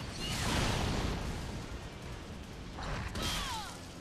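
Elevator ride in Ninja Gaiden Sigma 2, a continuous low mechanical rumble with grinding, creaking swells and a brief burst of clanking near the end, fairly quiet overall.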